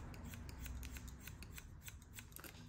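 Scissors snip steadily through long hair at a barber's chair, a quick run of repeated crisp metallic cuts heard up close with a low room hum beneath and no talking.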